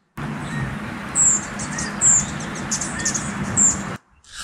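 Desert quail calling from the hills in an unpressured, non-hunting area, with several short, high, clear calls spaced about a second apart over steady outdoor background noise.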